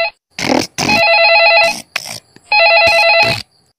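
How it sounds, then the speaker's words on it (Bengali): A telephone rings unanswered indoors, with loud trilling bell bursts close by: two long rings separated by short gaps, with no talking. "রিং হয়েই যাচ্ছে, ফোন ধরে না।"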